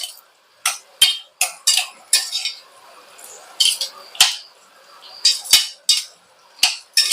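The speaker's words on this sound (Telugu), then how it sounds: "మసాలా వేసుకుని ఇలా కలిపేసుకుని మూత పెట్టుకుని ఒక 3 మినిట్స్ అయితే మన కూర రెడీ అయిపోద్దండి." Curry being stirred with masala in a pan, then covered with a lid: a series of sharp metallic clinks and scrapes of spoon against pan, spaced irregularly and fairly close, with no talking.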